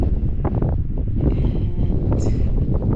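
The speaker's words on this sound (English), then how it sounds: "Can you hear that wind? Yeah, it is pretty darn windy." Strong wind at a rock arch near Page, Arizona buffets the microphone in a loud, steady low roar with gusty rustling throughout.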